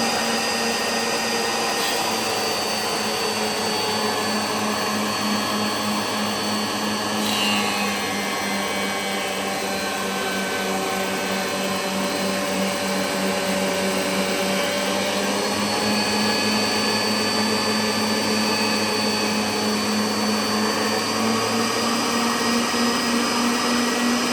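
A GTM thickness planer with a helical cutterhead runs with a steady, loud motor drone that holds constant throughout, with no one talking.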